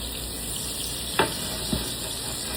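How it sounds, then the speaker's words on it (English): Halved potatoes fry in a pan of hot olive oil and butter, giving a soft, steady sizzle with two brief utensil clicks. "So I'm gonna fry these little potatoes up."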